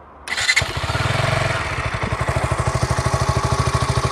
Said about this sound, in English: So now let's listen to the exhaust note.